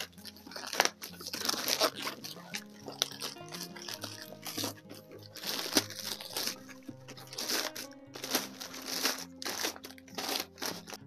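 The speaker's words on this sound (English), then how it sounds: "This one, they just ship inside a plastic bag. I'm going to just tear it open." A plastic shipping bag holding a pair of Clarks Wallabee boots is torn open and crinkled, a steady run of close, dense rustling and ripping with no talk.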